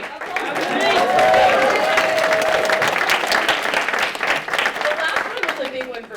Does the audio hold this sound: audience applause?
yes